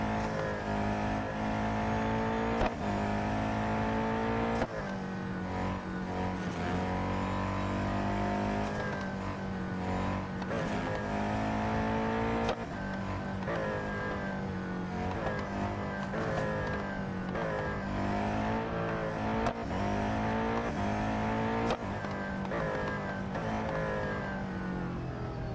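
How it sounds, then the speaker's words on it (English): A race car engine in the Real Racing 3 mobile racing game revs and climbs through the gears continuously, loud and close, with repeated rising sweeps and quick drops at each gear change and no voices over it. "It's a bit hard with this car because you literally just touch the throttle and she's away."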